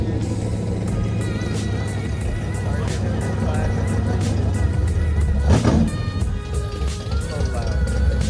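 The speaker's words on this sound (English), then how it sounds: "This car is just so loud right here." Loud engine noise at a night car meet with a police takeover, a red-interior car revving close by and a Ferrari 488 taking off, a steady roar that swells into a sharp burst midway, with people talking over it.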